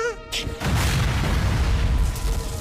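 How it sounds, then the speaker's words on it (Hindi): A cartoon explosion from the Hot Wheels Battle Force 5 series goes off as a loud, sustained blast that rumbles on for over two seconds, following a brief tonal sound at the start. "इन ब्लास्ट का भी एक पैटर्न है।"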